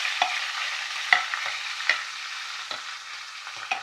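Garlic and ginger frying in hot oil for Kerala prawn pickle, a steady close sizzle with brief scraping stirs of a spoon against the pan at intervals.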